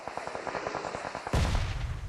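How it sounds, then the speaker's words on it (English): Mortar fire in PUBG Mobile: a rapid string of sharp repeated shots, then a sudden heavy booming blast with rumbling tail, close and loud, no talk. "Oh, here come the mortar at play."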